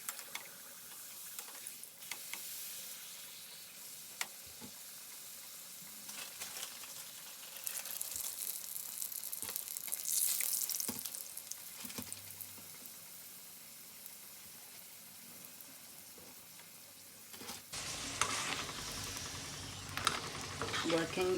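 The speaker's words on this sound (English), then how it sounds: "You've got to be attentive to this process when you're frying the tortilla shells." Tortilla shells frying in a hot pan, a soft continuous sizzle with scattered ticks and clinks of utensils, ending in a louder burst of crackling as a shell is moved, no voices.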